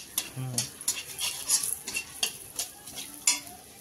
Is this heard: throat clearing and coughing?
no